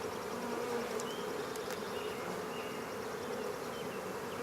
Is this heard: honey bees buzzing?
yes